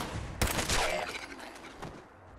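Gunshots from a first-person shooter game, Fallout 4 VR, played on an Oculus Rift with Touch controllers: a few sharp, loud cracks close together near the start, then a later isolated shot as the echoes fade.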